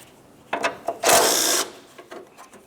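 A hand ratchet clicks in short bursts close by as it loosens 10mm bolts on the cowl of a 2009-2010 Pontiac Vibe, with a longer rasping run in the middle.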